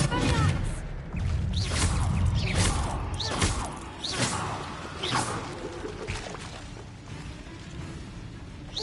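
Magical combat effects in Hogwarts Legacy as the Expelliarmus disarming spell is cast, a series of whooshing swishes and thuds, loud and close amid busy fight sounds.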